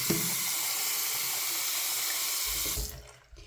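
Water runs steadily from a bathroom sink tap during shaving, a loud continuous rushing hiss that cuts off abruptly near the end.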